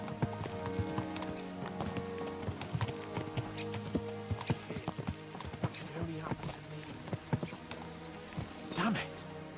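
Horses clop and gallop along in Kingdom Come: Deliverance II, a quick steady rhythm of hoofbeats with a brief whinny near the end, heard under continuous talk and game sounds.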